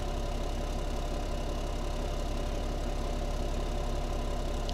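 A tractor engine drones steadily while ploughing in Farming Simulator 17, a constant, loud, mid-low mechanical hum with no change in pitch and no voices.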